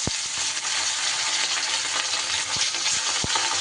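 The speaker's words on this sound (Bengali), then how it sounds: "মাছ দুটো সুন্দর করে লাল লাল করে ভেজে নিতে হবে।" Two pieces of fish fry in hot mustard oil in a pan, a dense, steady sizzle spread across the whole stretch with a few soft knocks and stirring clicks underneath.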